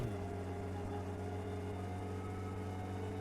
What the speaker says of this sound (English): I think that's just the noise the engine makes.